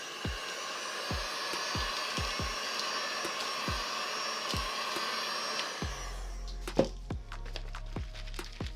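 A handheld hot air blower runs with a steady whooshing roar while heating a resin lamp shade to soften it, then cuts off near the end, leaving a few sharp taps and knocks.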